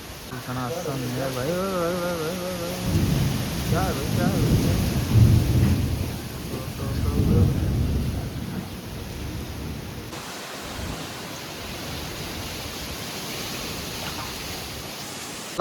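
Steady rain pours with deep rolls of thunder rumbling through the middle, then continuous hissing downpour; a voice is briefly heard early on.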